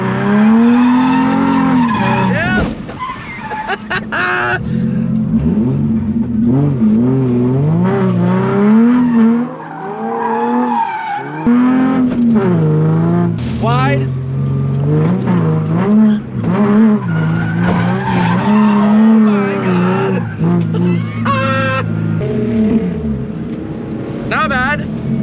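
Small motorized crazy carts drift in tandem around a drift track, tires skidding and squealing over buzzing high-revving engines, loud and close throughout, with a person talking over the noise.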